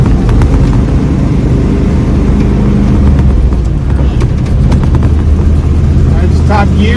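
A car engine, freshly tuned with a Holley 4412S carburetor, roars loudly and steadily as it accelerates in top gear, with wind and road noise around it and occasional voices over the drone.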